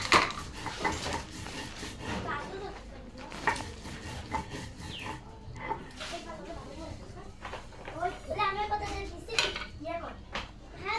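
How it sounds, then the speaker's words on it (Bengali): Raw green chilies are ground with repeated rough rubbing and grating strokes against a hard surface, close and irregular, while people talk intermittently over the grinding. "কাঁচা ঝালগুলো বেটে নেব।"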